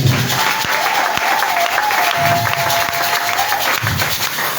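A church congregation breaks into sustained applause, a dense wash of clapping with a few distinct sharp claps and a faint held vocal tone over it, lasting several seconds.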